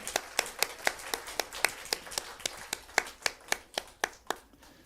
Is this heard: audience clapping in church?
yes